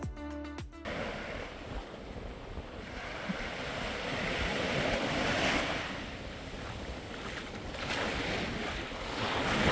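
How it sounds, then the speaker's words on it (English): Surf rolls and washes continuously along the shore at Ao Mung Beach on Koh Yao Yai, Thailand, a broad, fairly loud rush mixed with wind buffeting the microphone, after a brief tonal blip at the very start. "This is Ao Mung Beach"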